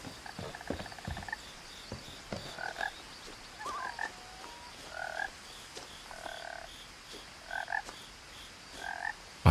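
Frogs croak repeatedly inside the video game What Remains of Edith Finch, short paired calls recurring every second or so over a hushed outdoor ambience, moderately near with no talk.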